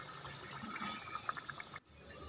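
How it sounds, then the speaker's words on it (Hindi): Water pours into a pot of Hyderabadi-style spicy chicken dalcha with spices, a faint splashing and gurgling stream that cuts off abruptly near the end. "अब इसमें थोड़ा पानी ऐड कर देंगे ताकि मसालों का टेस्ट जो है वो चिकन के साथ मिक्स हो जाए।"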